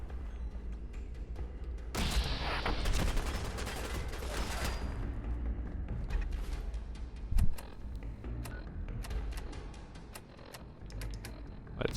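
Turret gunfire in Fallout 4, rapid rattling bursts of shots with sharp clicks over a dense, noisy battle background, moderately loud and continuous.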